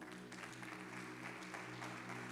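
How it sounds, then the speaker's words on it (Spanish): Church congregation applauding during a pastor's sermon on family, a steady wash of clapping from many hands filling the room, with a low hum beneath it. "Los papás, den un aplauso al Señor."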